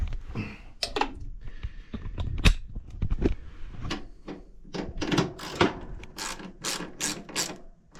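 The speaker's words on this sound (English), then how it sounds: "And then I'll come in with the socket wrench." A socket wrench ratchets in quick bursts while bolts are tightened on a Craftsman riding mower solenoid, with clicking runs broken by pauses and metallic knocks, close and fairly loud.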